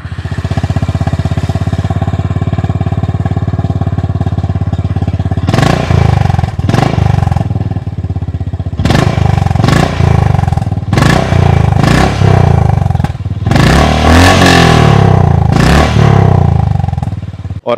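Close exhaust of a Honda H'ness CB350 motorcycle burbles at idle, then barks through a series of quick throttle blips and a longer loud rev.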